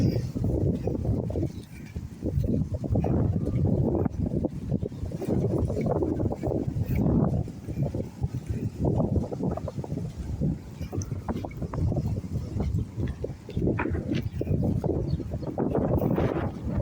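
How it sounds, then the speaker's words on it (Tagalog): Strong wind roars and buffets continuously outdoors near a highway, with heavy low rumbling gusts that rise and fall throughout. "Grabe ang hangin."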